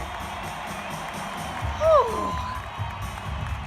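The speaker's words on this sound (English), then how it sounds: "Crowd going wild. Standing ovation for Jeff Carter." A hockey arena crowd roars and cheers for Jeff Carter's hat trick in a Kings–Coyotes game, a broad steady wash of distant voices, with a brief nearby exhale.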